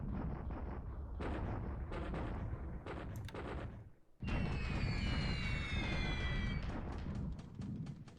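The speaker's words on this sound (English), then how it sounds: "We're bombing the airfield now here." Bombs exploding on an airfield in the War in the Pacific strategy game: a loud run of heavy, overlapping booming blasts, a brief lull, then another dense rumbling volley with a high whistling tone above it.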